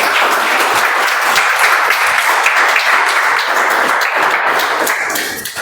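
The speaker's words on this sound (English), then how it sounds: "And can we have a huge round of applause for them?" A meeting audience claps for evaluators, dense steady applause filling the room at even loudness and fading slightly at the very end.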